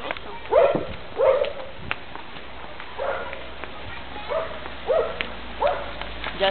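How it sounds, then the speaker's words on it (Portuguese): A dog barks in short bursts outdoors on a street, roughly six separate woofs spaced about a second apart at moderate distance, with no talk over them. "Latido sem motivo."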